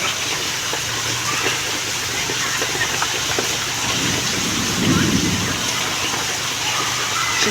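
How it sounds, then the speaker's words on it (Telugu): Heavy rain pours down steadily in a thunderstorm in Bengaluru, with a deep rumble of thunder rolling through near the middle, all under a constant loud hiss of rainfall. "ఉరుముతోంది ఉరుములు మెరుపులు గాలి వానలు వాన నీటిలో."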